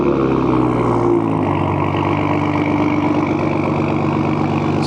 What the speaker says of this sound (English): this is also equipped with the M Performance exhaust